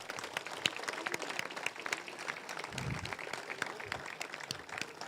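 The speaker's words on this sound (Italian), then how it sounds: "E facciamo un applauso" A crowd at an Alpini gathering in Cappella Maggiore claps, a scattered and fairly faint round of applause heard from some distance, with a brief low thump partway through.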